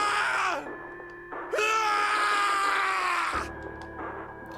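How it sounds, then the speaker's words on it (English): Snake, a character in the video game 999, screams in rage and despair inside an incineration chamber: two long, loud, strained vocal cries separated by a brief break, ending abruptly into low room tone. "His scream echoed through the incineration chamber, full of rage and despair."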